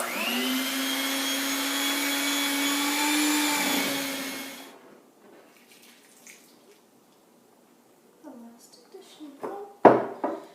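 An electric mixer whirs loudly and steadily for about four seconds as it beats cake batter with the dry mixture, then stops; soft clinks and bowl knocks follow, ending in a sharper clatter.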